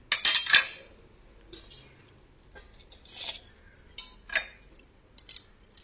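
Antique brass and bronze ladles clink and clatter as they are handled, with several bright metallic knocks spread out between quiet pauses, close up and with no voices.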